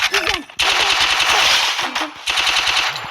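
Rapid automatic gunfire in a video game shooter, loud dense bursts of shots with short breaks between them, while voices talk in the background.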